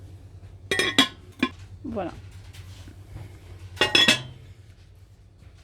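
Dishes clinking in a homeware shop around a 26-piece soup tureen set, a few sharp ceramic clinks and clatters in bursts, with a person talking between them.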